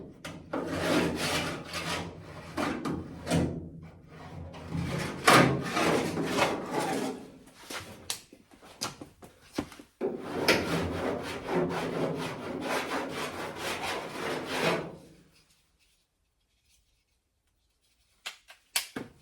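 Cheese grater rasp shaping body filler on a 1972 VW Super Beetle, heard as close, rough scraping strokes in rhythmic bursts for about fifteen seconds, then near silence with a couple of faint knocks.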